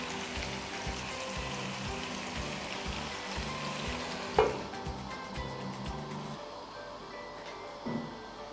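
Chicken karahi with tomatoes sizzles in a pan over a high flame, a soft, steady frying hiss with occasional stirring clinks, quiet and close.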